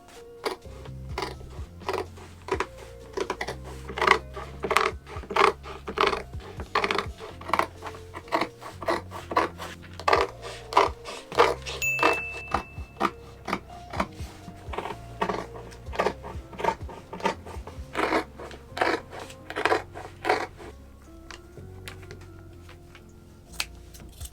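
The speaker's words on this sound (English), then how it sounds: "start cutting out the actual final fabric, the blue and the brown" Scissors cut through blue and brown fabric with a long run of rhythmic, close snips and soft scraping blade sounds. The snips stay steady and fairly loud, then thin out toward the end.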